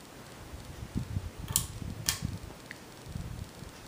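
A 42-inch Banvil triple-capacitor ceiling fan running quietly on low speed at about 60 RPM, a soft steady whir with gentle rhythmic low pulsing and a couple of faint ticks, close by with no talk.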